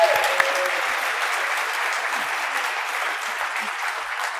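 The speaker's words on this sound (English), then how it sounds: "So please give Asa a big round of applause." Steady, full applause from an audience at a Q&A session, dense clapping that holds evenly and fairly loud for several seconds without talk.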